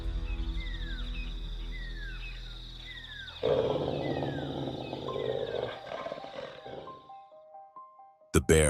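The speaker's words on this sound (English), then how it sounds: "The bear roared, a deep, forest-shaking sound" A bear lets out a deep, loud roar in a forest, bursting in suddenly after quieter wildlife calls and fading after a few seconds.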